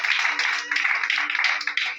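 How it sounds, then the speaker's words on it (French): A church congregation claps in acclamation of the Lord, a dense, steady wash of many hands close by. A low hum runs underneath and voices are faintly mixed in. "Acclame pour le Seigneur."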